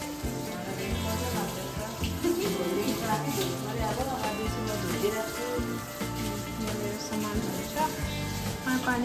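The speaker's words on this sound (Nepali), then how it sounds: "आमाले चाहिँ भाँडा धुइदिनु हुँदैछ मेरो" Dishes being washed at a home sink with a tap running, a steady broadband splash of water continuing throughout with clatter mixed in, while people talk over it.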